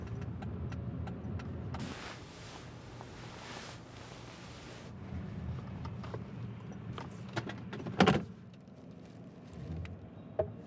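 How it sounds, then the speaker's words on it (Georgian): A car is shifted and parked nearby, giving a low, steady engine rumble under quiet surroundings, with a brief rushing noise midway and a few clicks and knocks, one sharper mechanical clatter near the end. "მოიცადე ერთი წამით გადავაყენო მანქანა."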